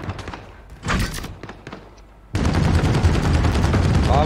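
Rapid automatic gunfire in Call of Duty: Modern Warfare (2019) Special Ops, scattered shots at first, then a sudden dense, loud sustained burst that continues to the end.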